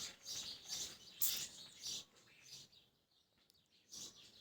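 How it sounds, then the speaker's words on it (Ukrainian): Small birds chirp and twitter in quick high bursts from a walnut tree, fairly faint and distant, with a short lull before one more chirp. "Співають пташки, це ж на горіхові сидять і цвірінчать там, цвірінчать."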